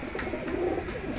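Pigeons of a black-and-bronze Madrasi breed coo close by, a soft, low, rounded burble lasting about a second over a quiet background.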